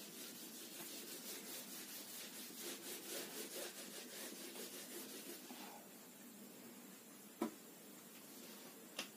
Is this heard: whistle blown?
no